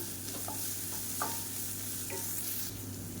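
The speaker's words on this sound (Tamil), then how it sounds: "இப்போ இது எல்லாமே நல்லா வதங்கிட்டு இருக்கு" Onions with ginger garlic paste sauté in a pan for an egg omelette curry, with a steady sizzle and occasional stirring scrapes, close and continuous without any talk.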